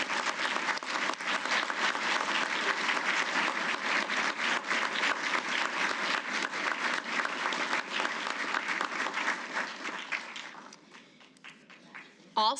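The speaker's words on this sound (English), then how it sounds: "please join me in a round of applause for all of these deserving DLA team members" A large audience at an awards ceremony gives a sustained round of applause for honored agency team members, dense and even for about ten seconds before thinning out, with voices emerging at the end.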